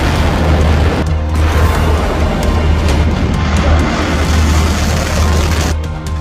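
Iranian missile launch: a continuous loud roaring rush with deep low rumble and broadband hiss, steady for several seconds before easing slightly at the end, with no speech.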